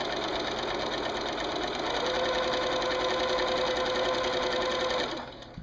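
A sewing machine runs continuously while stitching binding onto a quilt, a fast even whir with a thin steady whine appearing midway, then slowing to a stop near the end.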